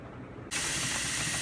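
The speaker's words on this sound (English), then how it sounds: "steam has been rising up out for approximately almost 10 minutes now" Steam vents from a pressure canner full of chicken broth, bursting on abruptly after a half-second of quiet into a loud, steady hiss.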